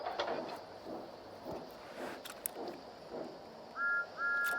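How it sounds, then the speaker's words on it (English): Two short high steam-train whistle toots near the end, following soft rustling and knocking sounds; the whistles are clear and moderately loud. "Then he heard a whistle."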